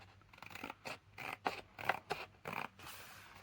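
Scissors snipping a thin sliver off paper for a small journal and envelope set, a series of about eight quiet close cuts in an uneven rhythm with no talking.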